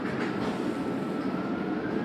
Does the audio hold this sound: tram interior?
yes